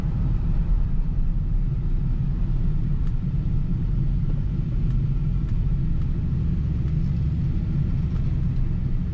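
A 1979 Lincoln Continental Mark V with automatic transmission cruising and cornering, heard from inside the cabin as a steady, continuous low engine and road rumble with faint ticks and no talking.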